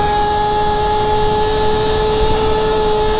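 Talaria xXx electric dirt bike ridden at speed on a bumpy road, a loud, steady high-pitched motor whine over constant rushing wind noise, heard close up throughout.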